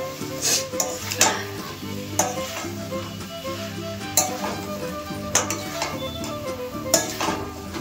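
Potatoes and prawns being sautéed in a spiced pan, a steady sizzle under repeated scraping and clinking of a metal spatula against the pan, close and without talk.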